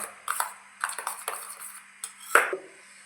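A paste gets stirred in a bowl with a utensil, giving a series of light metallic scrapes and clinks in an irregular rhythm, close and fairly quiet.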